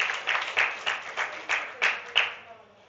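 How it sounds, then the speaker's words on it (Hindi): A crowd claps for a prize winner at a Sunday church gathering, a dense patter of applause swelling in repeated bursts roughly every half second, fairly close, then tapering off. "ताली बजाओ उनके लिए प्राइज"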